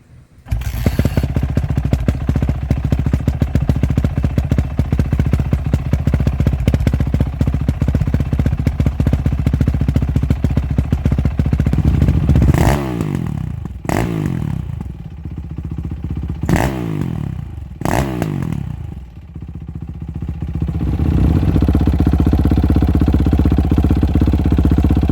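A Yamaha YZ450F dirt bike engine runs loud and close with a slipping clutch, holding a steady rattly drone, then revving up and down in several sharp bursts before settling back to a rough idle.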